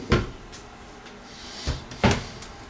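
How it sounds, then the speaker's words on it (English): Self-closing hinge on a kitchen cabinet door in a three-bedroom tiny house on wheels, swinging shut with a few soft knocks and one firmer thud, close and clear with no talk. "Self-closing hinges."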